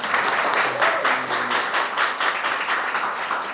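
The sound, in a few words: applause from classmates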